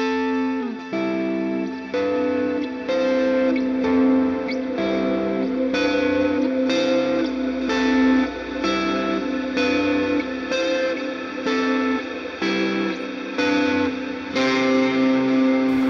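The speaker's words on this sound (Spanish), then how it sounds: "vamos a usar overdrive, delay y una reverb para hacer los siguientes acordes de" Electric guitar strums chords through overdrive, delay and reverb effects, with a warm distorted tone and echoing tails ringing between evenly spaced strums, played alone without talk.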